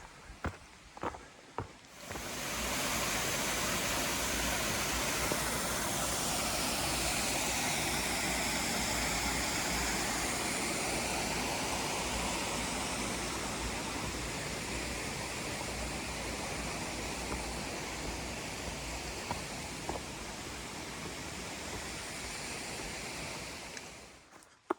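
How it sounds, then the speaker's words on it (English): River flowing right beside a hiking trail on the Appalachian Trail, a steady broad rush of water that swells in after a few footsteps and holds for about twenty seconds before fading out. "Some of my favorite hiking terrain is when the river is right next to the trail."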